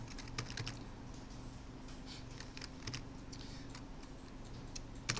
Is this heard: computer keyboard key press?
yes